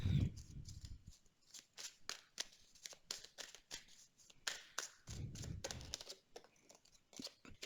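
Tarot cards being shuffled and drawn by hand for a reading, with quick papery taps, flicks and rustles in a steady close-up run and two low thumping bursts near the start and middle, no speech.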